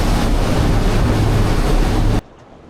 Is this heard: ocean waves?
yes